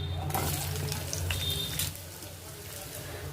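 Cloves, cinnamon bark and onions sizzle in two spoons of hot oil in a pan, a steady close crackle and hiss that drops slightly partway through.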